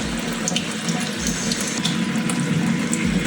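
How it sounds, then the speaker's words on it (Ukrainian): Hot water gushes steadily from a tap into a sink, a continuous close splashing rush with no pauses and no voices. "А, ну от гаряча вода пішла"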